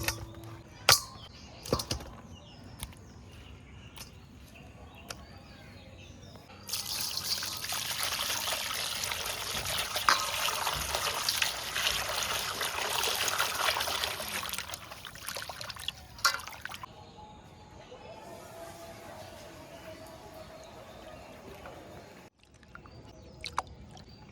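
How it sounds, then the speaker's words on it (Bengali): Water running and trickling while freshly cut river boal fish are washed clean, a steady splashing pour with scattered clunks and drips, louder in the middle stretch and quieter toward the end. "মাছগুলো পুরো পরিষ্কার করে ধুয়ে নিয়েছি।"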